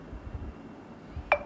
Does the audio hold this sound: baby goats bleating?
no